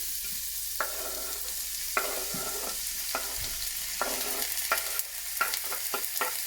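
Steady crackling sizzle of chickpeas, kale and other vegetables frying in a hot pot, with scraping stirs every second or so, close and alone.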